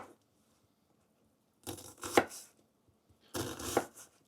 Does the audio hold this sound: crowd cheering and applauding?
no